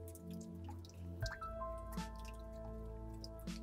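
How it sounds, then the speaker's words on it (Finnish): Water drips from rock in a quiet Finnish cave in spring, a few distinct drops falling slowly and spaced apart over a steady low hum, with no voices. "kuuluu vaan, kun vesi tippuu kallelta ja tulee kevät."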